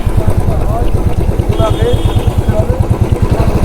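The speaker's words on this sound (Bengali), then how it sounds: "সামনে আমাদের জন্য ওয়েট করছে আমাদের তিনটে বাইক" Three motorcycles idle with a low, rapid, even putter, close by on Sevoke Road near the Kali temple in Siliguri, while people talk over the rumble.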